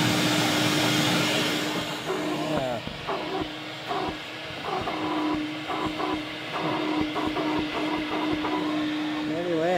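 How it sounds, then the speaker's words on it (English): A vacuum cleaner runs steadily for the whole stretch while clearing feathers indoors, a loud continuous whooshing drone with small shifts in pitch as the nozzle moves. "I have been vacuuming, though"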